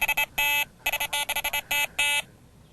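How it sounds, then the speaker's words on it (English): An electronic bite alarm on a carp fishing rod set in free-spool mode goes off in a quick, irregular run of sharp, clear beeps, some short and some held longer, then falls silent. "it's gonna set the alarm off."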